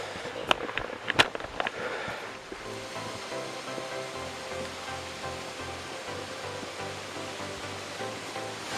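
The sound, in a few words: waterfall on a forest creek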